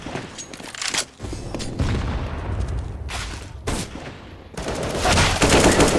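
Gunfire and explosive bursts in a CS:GO match around a thrown fire grenade, with loud sustained crackling and booming that swells in waves over several seconds, no talk.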